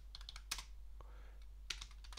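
Close, quiet keystrokes on a computer keyboard as a Linux command is typed, a quick irregular patter of taps over a low hum with no talk.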